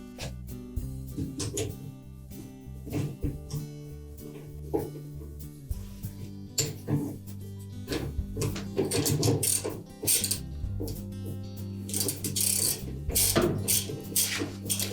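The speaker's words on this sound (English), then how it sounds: "you'll need to hold that agitator from turning as you're tightening that bolt" Bolt being tightened on a Whirlpool washer agitator shaft, with repeated close ratcheting clicks and mechanical rattles in uneven bursts and no speech.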